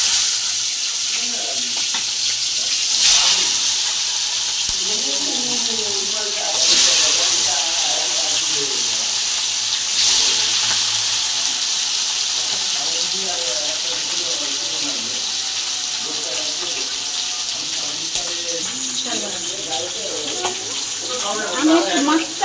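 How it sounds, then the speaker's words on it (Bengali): A fish head fries in hot oil in a wok, giving a continuous close hiss and sizzle with occasional bursts of spattering while a person talks over it. "কড়াই তেল দিলাম, মাছের মাথাটা ভাজবো।"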